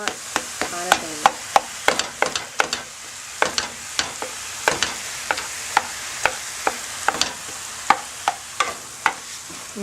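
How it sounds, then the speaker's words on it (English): Turkey and sweet pepper pasta is stirred in a pot on the stove under a steady sizzle, with a spoon clacking and scraping against the pot in a regular rhythm. "So I'm just going to go ahead and just mix that all together."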